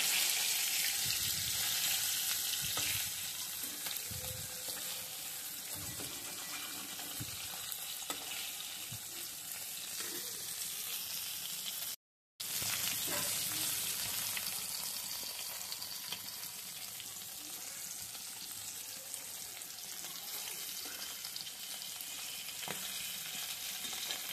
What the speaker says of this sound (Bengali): তোমার মাছ ভাজি ফেলছি তোমায়